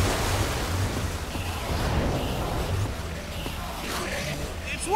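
Water gushing out in the game Minecraft Story Mode, a broad, steady rushing roar like surf that persists throughout, with a voice speaking over it.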